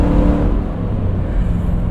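A 2000 Lexus LX 470 V8 with a muffler delete revs loudly up close, a deep, throaty rumble that swells and eases in short surges without a break.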